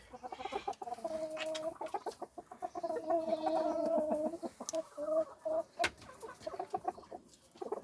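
A large tiger breed rooster clucks in a steady run of close, resonant calls, with a few sharper squawks near the end and no talking over it.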